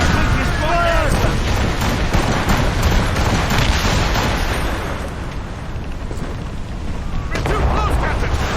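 Ship cannon fire in the Assassin's Creed Rogue naval game: loud, heavy booming blasts roll one into the next over a dense, continuous rumble, with shouting crew voices breaking through the barrage.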